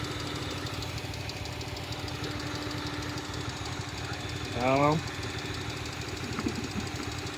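A misfiring car engine idling roughly with a steady uneven knock, nearby, with a person briefly speaking over it and a short rising whine partway through.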